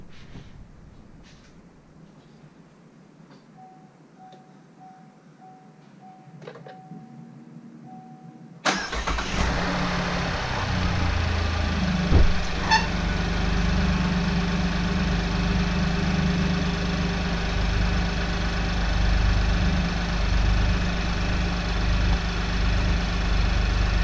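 A 2018 Chevy Colorado V6 work truck cranks and fires after a quiet stretch with faint clicks, then settles into a steady, close mid-pitched idle that runs on evenly.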